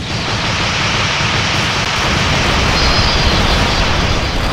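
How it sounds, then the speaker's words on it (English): A plasma explosion from the Rival Rebels mod for a video game: a dense, continuous roaring wash of noise, loud and steady throughout with no pauses or separate bursts. "it'll hit and create a plasma explosion, like from the plasma cannon"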